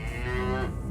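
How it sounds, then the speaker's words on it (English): A cow on a country road near a dual carriageway lets out a single loud, close moo, drawn out and slightly rising, with nothing else over it. "Oh, it's not a bull, is it? That's a cow."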